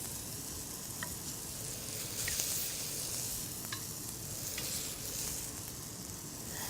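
Scallops sizzling on a hot grill, a steady close crackling hiss with occasional soft pops, continuous and without speech.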